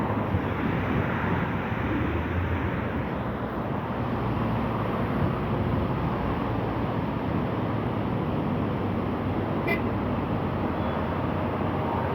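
Stormy sea battering a beach during a winter gale on the Egyptian coast, a steady, loud roar of surf blended with heavy wind buffeting the microphone throughout, no voices.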